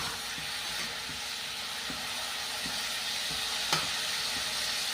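Onions and a little ginger fry in a pan, browning for a coriander and spinach sabzi, with a steady close sizzle, a crackling hiss and a few soft stirring knocks, no voices.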